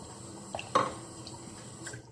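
Cold water from a kitchen tap is poured into a measuring cup while making a Jello cake: a brief, faint splash and trickle with a small clink over quiet room tone, and no talking.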